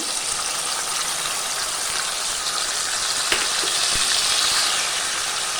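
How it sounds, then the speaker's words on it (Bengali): Ground cumin and ginger paste fry in hot oil, giving a loud, steady hiss of sizzling with a couple of faint clinks from stirring. "জিরে আর আদাটা যেটা আমি বেটে রেখেছিলাম দিয়ে দিচ্ছি"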